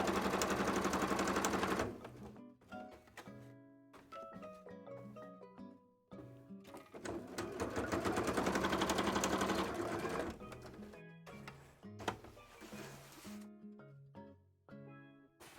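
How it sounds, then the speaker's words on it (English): A sewing machine stitching a cosplay skirt, running in long steady whirring stretches with stops and short starts between, close and clear with light movement noise. "This is being sewn into and not the bodice."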